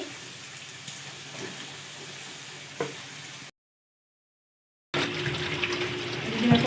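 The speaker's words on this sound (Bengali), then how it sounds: "রসুন আর পেঁয়াজগুলো প্রথমে ভেজে নিচ্ছে" Garlic and onions frying in a pan give a steady, close hiss that drops to silence for over a second midway, then resumes louder with faint clinks.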